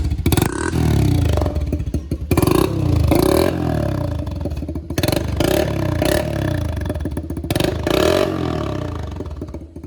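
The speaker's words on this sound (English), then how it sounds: "slipped this 3-inch exhaust. It's just over the top of the muffler. See? See the sound difference?" A Toyota Prius with a swapped-in LS V8 engine and a 3-inch exhaust pipe slipped over the top of the muffler, idling and revving loudly up close with a deep, rumbling, continuous roar.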